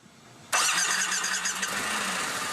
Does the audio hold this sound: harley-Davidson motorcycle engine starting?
yes